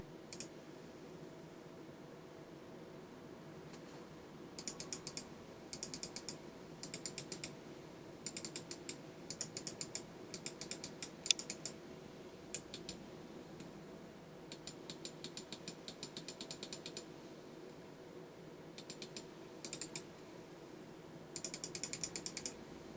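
Notched scroll wheel of a Cooler Master MM711 gaming mouse, heard close up as bursts of quick, light ratcheting clicks in short runs separated by pauses, alone against a quiet background.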